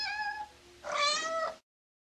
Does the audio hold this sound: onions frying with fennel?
no